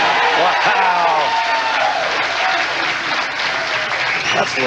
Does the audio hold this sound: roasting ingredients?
no